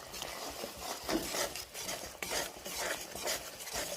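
Cumin, coriander and other spices stirred and sautéed in a pan while cooking okra do pyaza, with a steady scraping, rustling texture and a faint sizzle, close and continuous with no talking.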